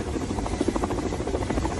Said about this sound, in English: Apparently the guy was so heavy, if you notice, Matthew, when they tried to pull him in, he actually pulled the helicopter down